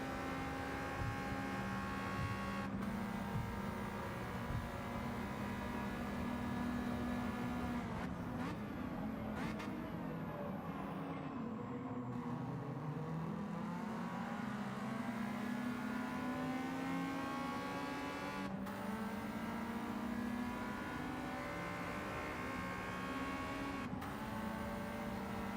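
A race car engine from a Kei cup racing video game drones steadily, loud and continuous, with the pitch rising and falling through gear changes and revs.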